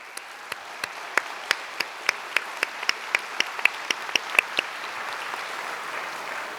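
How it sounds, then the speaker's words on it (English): Audience at an 8th grade promotion ceremony applauding, a steady wash of many hands with distinct individual claps standing out, moderate and continuous throughout. "So I think your parents deserve a big round of applause."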